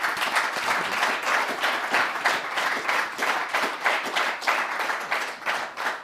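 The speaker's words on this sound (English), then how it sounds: "Big round of applause." Audience applause after a panel discussion on the global economy, steady dense clapping from a seated crowd lasting several seconds with no talk over it.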